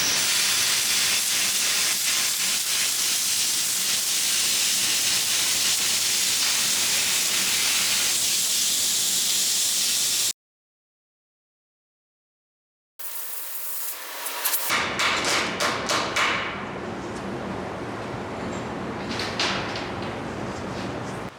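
A power cutter slices through an aluminum sheet along a marked line for a 1969 Dodge Charger Hellcat airbox, a loud, harsh, continuous hissing grind that stops abruptly, goes silent for a few seconds, then resumes in rougher bursts.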